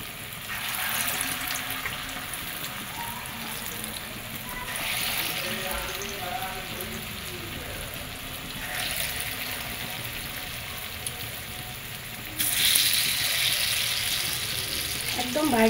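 Dal pakora lentil fritters, Kolkata street-food style, fry in hot oil over a medium flame with a steady close sizzle that swells as each new spoonful of batter drops in.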